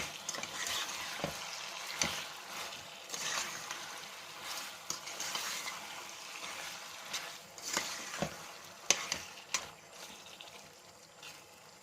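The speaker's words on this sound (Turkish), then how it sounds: "Biraz kavuruyorum." Dried apricot dessert with sugar being stirred and roasted in a pan, giving a steady close sizzle with scraping stir strokes and a few sharper knocks, no talking.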